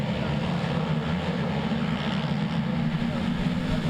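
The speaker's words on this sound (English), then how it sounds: "High-speed right-hand first turn, and would you believe it, it's the Can-Am of Kramer grabbing the whole shot" ATV motocross race start at Unadilla in the 2012 national championship, with a pack of racing quad engines droning loudly and steadily toward a high-speed right-hand first turn, a dense continuous roar under a commentator's voice.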